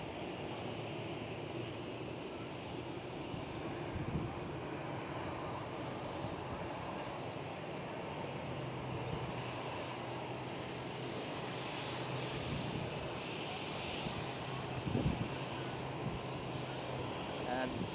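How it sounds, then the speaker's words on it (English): A KLM Cityhopper Embraer E175 regional jet rumbles at Amsterdam Schiphol, a steady distant engine drone lasting throughout, faint under light background noise with a couple of brief knocks. "This is of course not a Dreamliner but a KLM Cityhopper E175."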